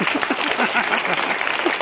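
Audience applause at a primary school student motivational program in Araria, a steady dense patter of many hands clapping at close range with faint voices mixed in.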